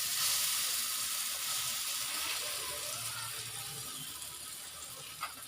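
Leaves dropped into hot oil with mustard seeds and asafoetida, giving a bright, steady hiss of sizzling that starts strong and slowly eases off, close and alone.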